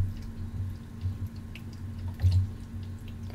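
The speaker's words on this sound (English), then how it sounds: "you're going to pour your water in here" Water pours into the reservoir of a Keurig K-10 coffee maker, a steady low splashing trickle with a few louder gurgles, close by and with no talk.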